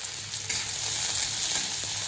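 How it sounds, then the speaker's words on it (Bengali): Garlic and dried red chilli fry in hot oil, giving a steady, close sizzle that holds for about two seconds with faint stirring scrapes and no talk. "এই যে রসুন শুকনো লঙ্কা ভাজা হয়ে গেছে"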